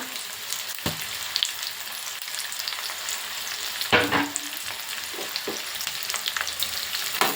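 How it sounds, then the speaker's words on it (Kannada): Chopped onion and garlic frying in about two tablespoons of hot oil, a steady soft sizzle with occasional utensil clinks, close but quiet. "ಎಣ್ಣೆಗೆ ಈಗ ಕಟ್ ಮಾಡಿರುವಂತಹ ಈರುಳ್ಳಿ ಹಾಕೋತೀನಿ ಈರುಳ್ಳಿ ಬೆಳ್ಳುಳ್ಳಿ"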